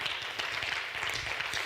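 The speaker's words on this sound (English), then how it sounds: "you can clap for that, that's true." An assembly audience claps in a brief, even burst at moderate distance, a steady patter of many hands with no voice on top.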